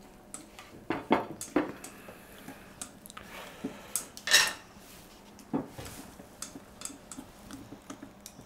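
Plates and dishes are handled while a cucumber salad is prepared, with a scatter of light clinks and knocks at uneven intervals against a quiet room. No one speaks.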